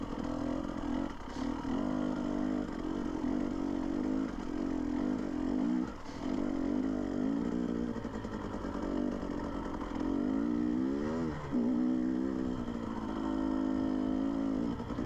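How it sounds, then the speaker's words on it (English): KTM dirt bikes ridden on a broad dirt road, the engine drone close and continuous with rising and falling revs as the rider shifts and accelerates, steady wind noise underneath. "Jeff on his Suron, Ron on his KTM, and Mike on another KTM, and me on another KTM"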